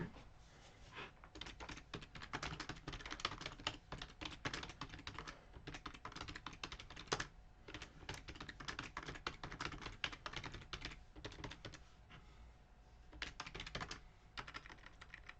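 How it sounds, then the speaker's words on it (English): Rapid typing on a computer keyboard, with dense, irregular key clicks running steadily throughout, fairly close but quiet, and no voices. "I went to type Mickey and I wrote icky"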